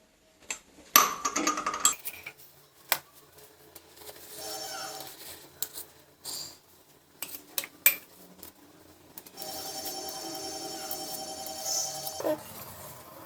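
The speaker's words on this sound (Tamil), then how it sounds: "ஒரு கரண்டி ஒரு கத்தியை வச்சு இப்படி சைடில் இந்த மாதிரி எடுக்கணும்" Spoon and knife scraping and clinking against a metal idli mould while lifting out Kanchipuram idli, with scattered light taps and clatters at close range, some quiet stretches between them.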